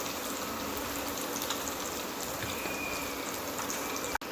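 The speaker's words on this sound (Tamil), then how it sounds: "அடுத்த பக்கம் போட்டு பொரிச்சு எடுத்துக்கலாம்" Raw banana bajji fry in hot oil at home, a steady dense bubbling sizzle that runs evenly and close up throughout, with no voices, broken only by a brief dropout near the end.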